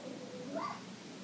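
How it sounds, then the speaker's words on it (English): A small chihuahua gives a single short yip, faint and somewhat distant, rising briefly above a steady background wash. "Is that your dog barking or did he bark?"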